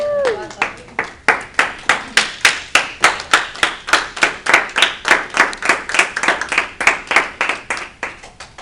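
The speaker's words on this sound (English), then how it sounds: "Please stand up and applaud loudly." Rhythmic clapping from an audience at a speaking club meeting, loud and regular beats pulsing steadily over about eight seconds, with a brief voice at the start.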